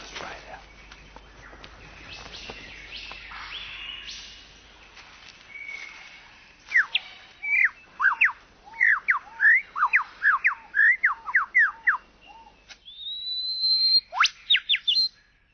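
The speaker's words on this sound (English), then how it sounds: "The superb Lyre Bird of Southern Australia." A superb lyrebird of a southern Australian forest sings a rapid series of clear, sharp whistled and chirping notes, loud and close, after a quieter opening with faint background sound.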